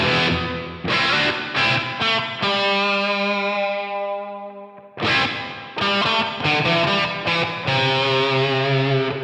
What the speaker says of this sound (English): If I bring it all the way up here, you can hear a very, very bright reverb